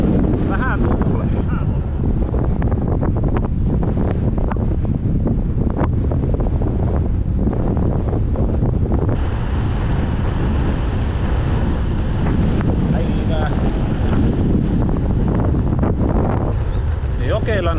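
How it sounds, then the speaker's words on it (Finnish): Strong wind roars over the microphone throughout a long-distance brevet bicycle ride through a Finnish village in summer, a steady loud rush with gusty buffeting and no talk. "Vähän tuulee."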